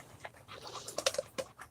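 A dog pants close by in quick, soft, uneven breaths, with a few light clicks and taps mixed in.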